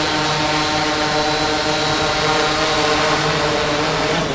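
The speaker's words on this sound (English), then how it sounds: "so it's just been delivered via the drone" A delivery drone flies in carrying a Starbucks order in a Chinese city, its rotors giving off a loud, steady droning whine that holds without a break throughout.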